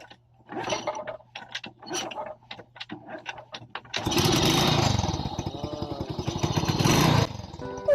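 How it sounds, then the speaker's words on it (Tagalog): A Euro Sports 110 motorcycle that had stalled and refused to kick-start is kicked several times in separate strokes, then the engine catches and runs with a loud, steady mechanical rattle up close. "Try natin pa-kickstart kay bossing."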